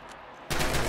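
A single loud, sharp gunshot from Red Orchestra 2, a World War II shooter, cracks out halfway through after a quiet lead-in and rings briefly.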